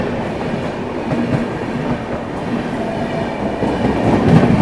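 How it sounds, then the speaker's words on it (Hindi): The Katihar–Amritsar Amrapali Express passes close by on the adjacent line, its wheels and coaches making a continuous loud rolling clatter that swells slightly toward the end. No one speaks. "सामने जो है कोई ट्रेन क्रॉस हो रही है अपने से। कटिहार अमृतसर अम्रपाली एक्सप्रेस।"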